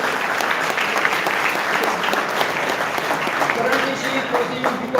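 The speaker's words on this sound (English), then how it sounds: "Give a big round of applause to Priyanka Hare" A school hall crowd applauds a student topper at a commerce faculty felicitation, steady dense clapping filling the whole stretch with voices murmuring underneath.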